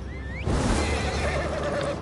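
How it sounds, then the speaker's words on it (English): A horse in the online game Elder Scrolls Online lets out a single loud whinny that carries over ongoing in-game background noise. "Who's on that horse? There's nobody on the horse."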